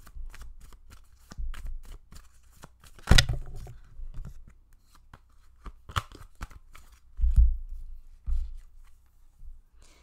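Tarot cards are shuffled and drawn close up in crisp riffles, flicks and soft slaps. The bursts come intermittently, with quiet pauses between them.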